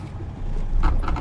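A truck in American Truck Simulator rolls over cattle guards on a Canadian rural road, giving a low steady engine rumble broken by a couple of quick, heavier thumping rattles near the end.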